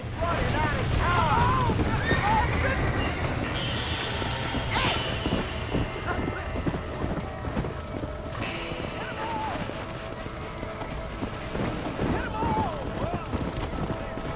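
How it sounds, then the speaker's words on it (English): A horse clip-clops along in Red Dead Redemption, with steady hoofbeats through the whole stretch, blended with other in-game noise and now and then a neigh, while a player talks excitedly over the top. "Let's get back on the horse."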